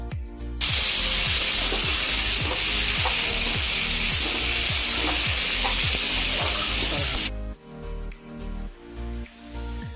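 Bitter gourd and potato pieces fry together in a pan with a loud, hissing sizzle and rhythmic stirring scrapes, then the hiss drops away sharply near the end, leaving softer clatter.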